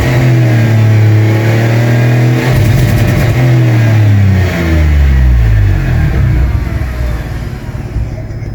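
A Gazel fitted with a 2.7-litre V6 petrol engine revs up and down loudly at close range, its pitch climbing and falling in several sweeps before settling back to idle.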